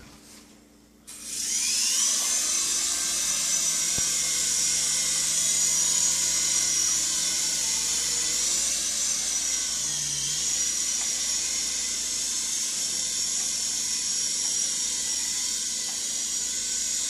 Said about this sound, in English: Is that a remote control helicopter?